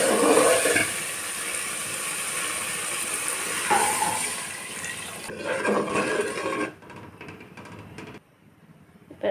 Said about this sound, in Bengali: সরষে বাটাটাকে একটু নেড়ে চেড়ে জল দিয়ে দেবো।